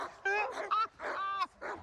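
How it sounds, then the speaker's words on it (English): Several dogs barking, yipping and whining in excited bursts, close and loud, with short pauses between the outbursts and no clear talk. "these dogs have gone absolutely wild"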